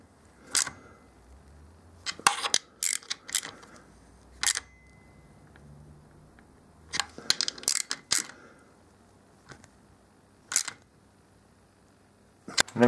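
Bolts being snugged up by hand on a guard fitted to a BMW R1200RS motorcycle, giving sharp, close metallic clicks and clacks in scattered bursts with quiet gaps between, no talking.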